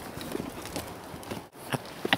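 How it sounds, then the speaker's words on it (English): Horses walking outdoors in Colorado, hooves clip-clopping in a loose, uneven rhythm at moderate distance, with a few sharper knocks near the end. "That's horses."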